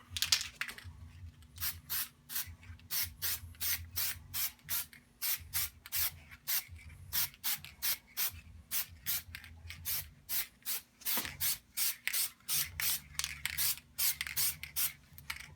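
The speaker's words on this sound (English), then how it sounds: "I'm going to add a little bit of this, as you know, marbleizing spray" Rapid repeated bursts of marbleizing spray paint hissing from a can, short rhythmic puffs continuing steadily, close and moderately loud over a low hum.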